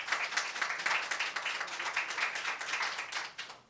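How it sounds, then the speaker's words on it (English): Steady applause and clapping from a meeting audience at an annual general meeting, dense and sustained for several seconds before tapering off, with no talk over it. "can we give those who have a round big of applause?"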